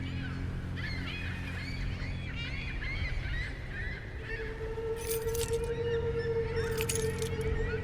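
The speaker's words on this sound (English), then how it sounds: "So that's why the birds are crying out." Geese honking and crying out in The Lightkeeper video game, repeated calls over a steady low hum, with a sustained tone entering partway through.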